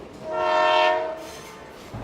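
A passing train on the First Avenue line in Iowa City sounds a loud, sustained horn blast that swells and fades over a low rumble of rolling cars, with no voices.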